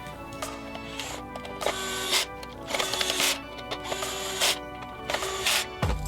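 Screws driven into the plastic back of a Fisher-Price Laugh & Learn Smoothie Maker toy, several separate whirring bursts from a powered driver, close and fairly quiet, with no talking.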